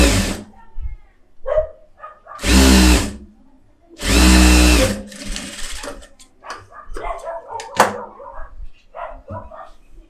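A sewing machine runs stitching along the lining of a blouse, in two loud sustained bursts of about a second each, separated by pauses, with handling clatter and a voice talking around them.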